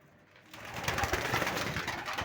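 Pigeons coo close by, soft throaty warbling calls overlapping after a brief quiet start, continuing steadily.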